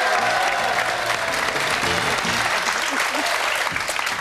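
A television quiz studio audience claps and cheers steadily and loudly throughout, a dense continuous wash of applause with some voices mixed in.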